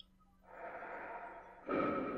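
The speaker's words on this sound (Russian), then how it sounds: "Он дышит." A monster in the PlayStation horror game Hellnight breathes heavily nearby: one long, hoarse exhale, then a louder, harsher snorting breath that cuts in abruptly, with no talk.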